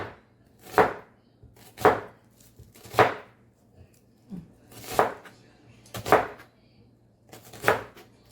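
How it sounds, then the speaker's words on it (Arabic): A knife chops onions on a cutting board for chicken and rice, with seven sharp, evenly spaced strikes about a second apart, close and clear over a faint steady hum. "هنقطع البصل"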